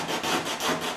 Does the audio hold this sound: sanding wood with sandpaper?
yes